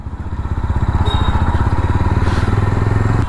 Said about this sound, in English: This is a proper cold start. Feels nice and solid